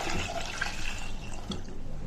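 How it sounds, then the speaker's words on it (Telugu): Water poured into a pressure cooker over soaking ingredients, a soft, continuous liquid splashing and trickle, close and fairly quiet, heard alone without talk. "ఇక ఇవి మునిగేమే నీళ్లు పోసుకుందామండి"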